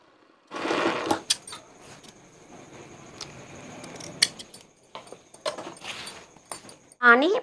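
A sewing machine stitches piping cloth folded to one side in short bursts of clattering runs between pauses, with scissor-like snips and small metallic clicks; a person speaks during the work.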